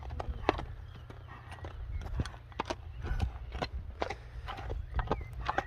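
A horse walks at a steady pace, its hooves clip-clopping in a regular rhythm, close by, over a low rumbling background.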